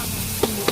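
Garlic sautéing in a pan for pancit canton, a short burst of sizzling with two quick brighter crackles near the end.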